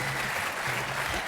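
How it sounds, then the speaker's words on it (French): TV game show studio audience applauding, a dense, steady wash of clapping lasting just over a second with a faint low hum underneath. "On peut applaudir fort Yara"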